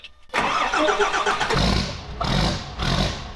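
A car engine cranks briefly, catches and fires up, then settles into a rough, loud idle with two distinct revs blipping near the end, with no talking.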